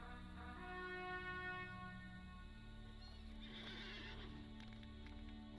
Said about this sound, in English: I'll get out my war horse now.